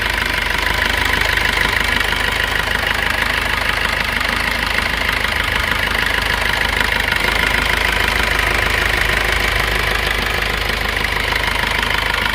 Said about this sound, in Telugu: అలా ఒకసారి మీరు ఇంజిన్ సౌండ్ చూడండి ఎలా ఉందో ఏంటన్నది